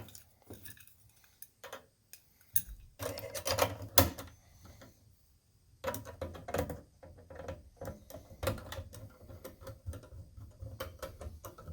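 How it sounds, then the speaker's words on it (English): Late-1980s Radio Shack Realistic four-channel stereo mic mixer handled up close as a 9-volt battery is fitted, with a run of sharp plastic clicks, taps and snaps in bursts, loud and near, no talking. "And then your 9 volt battery. Clicks in."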